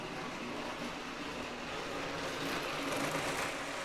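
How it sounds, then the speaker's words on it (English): A 1963 Lionel 634 switcher toy train running on track with a chattering fault, giving a continuous rattling, buzzing motor hum up close that roughens slightly toward the end, with no voices. "got a little chatter going on. It's like it's running over rocks or something."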